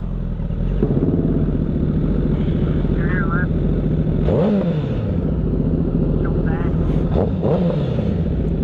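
Sportbike engine droning steadily while riding mountain twisties, a close constant roar with shifting pitch and brief revs, voices talking over it.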